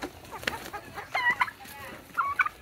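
A Rhode Island Red chicken clucks a few short times, with soft, scattered farmyard noise underneath. Other turkeys, ducks and geese are kept nearby.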